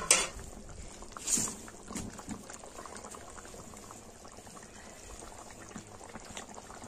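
Chicken curry mixture boiling in a pot, a quiet, steady bubbling with soft irregular pops and a couple of louder spits at the start; no voices.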